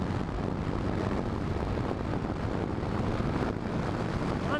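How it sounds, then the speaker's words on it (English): Riding a Yamaha GTS 1000 motorcycle at speed, a dense, steady roar of wind buffeting and engine drone that stays constant throughout with no talking. "I don't think I've ever ridden a motorcycle that rides this smoothly."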